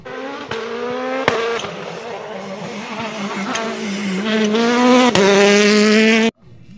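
A toy race car gives off a loud, buzzing motor whine up close that climbs in pitch in steps over several seconds, punctuated by sharp clicks, then cuts off abruptly.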